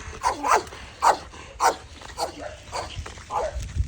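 A dog barks in a few separate bursts nearby, with faint outdoor background noise between the barks.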